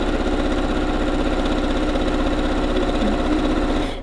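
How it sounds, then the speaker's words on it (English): A sewing machine stitches a quarter-inch seam through fusible web and quilting fabric, a steady, loud mechanical hum with a fast, even rhythm running unbroken for the whole stretch. "you're going to sew a 1/4 inch all the way around"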